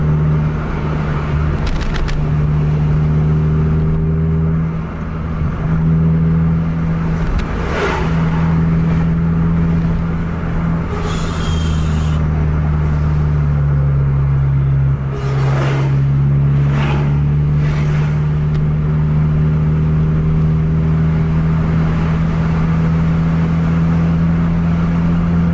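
A Mercedes-Benz bus engine at full throttle while racing a Scania bus, with a loud continuous drone that rises and shifts in pitch through gear changes, plus road and wind noise from inside the cabin.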